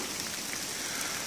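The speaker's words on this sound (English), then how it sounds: "You can tell the rain's really coming down now" Heavy rain falls near a beaver dam on a hiking trail, a dense, steady hiss of drops close by with no voices over it.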